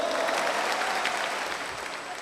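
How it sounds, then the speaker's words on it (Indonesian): Audience applause at a stand-up comedy show, a dense, steady wash of clapping from a sizeable crowd that holds at a fairly even level and eases slightly toward the end. "Sekali lagi tepuk tangan yang meriah untuk UNAN dulu."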